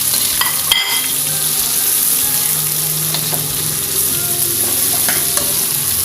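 Red chilies, hot bird's-eye chilies, lemongrass, bay leaves, lime leaves and ginger sizzle in a pan with softened shallots, with a steady loud hiss and a few clattering stirs of a utensil, no voices.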